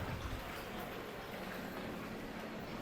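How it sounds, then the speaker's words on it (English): Storm water pours in on a Celebrity Apex cruise ship deck, a steady rushing, splashing wash of flowing water, close and continuous without breaks. "There's water coming in."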